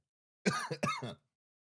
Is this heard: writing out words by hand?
no